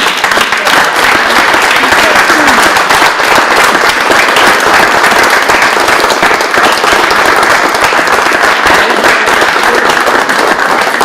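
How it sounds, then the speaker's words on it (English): Sustained loud applause and clapping from a crowd at a high school boys basketball state championship trophy presentation, dense and steady throughout with no pause. "stand up and give these guys a round of applause"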